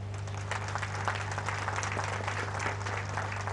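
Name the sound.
applause for veterans of Operation Trident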